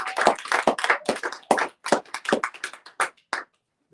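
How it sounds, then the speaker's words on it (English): Audience members applauding a director at a book-banning anniversary event, a sparse handful of distinct, close hand claps in an uneven rhythm, ending in silence. "Give him an applause."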